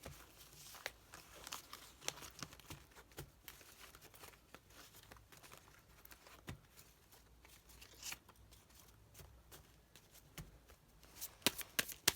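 Tarot cards being shuffled by hand before an advice reading: quiet, steady riffling and soft papery patter with occasional sharper flicks, close and alone.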